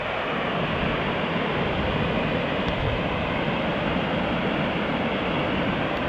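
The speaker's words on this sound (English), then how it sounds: "It's gonna be good though, the white noise of the waterfall tonight." A rushing waterfall at a camp in the High Uintas roars as a dense, steady wash of white noise, close and unbroken from start to finish.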